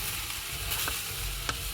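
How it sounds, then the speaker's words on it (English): Egg fried rice with vegetables fries in pork fat in a frying pan, giving a soft, steady sizzle and hiss with a few faint scraping stirs, fairly quiet and continuous. "put it around like you're frying in a wok, but all I have here is a frying pan"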